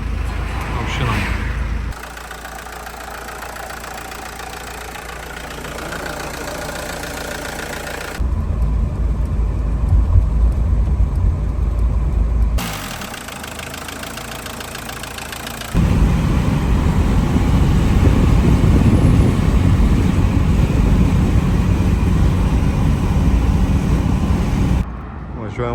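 A Volkswagen Jetta drives with its rusted exhaust pipe broken off and hanging, giving a loud, raw engine and exhaust drone that stays steady and rises in louder stretches toward the end.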